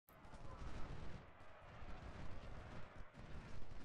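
Massed musket fire from a Civil War battle at Gettysburg in a strategy game, a continuous crackling fusillade with low rumbling booms, steady at moderate loudness throughout.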